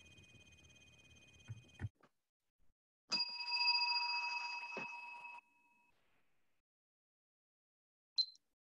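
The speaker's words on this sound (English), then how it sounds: "The bell was very clear that time." A clear bell rings with a sustained, bright tone for about two seconds after a brief electronic chime, followed by silence and one short final ding, set against faint room noise.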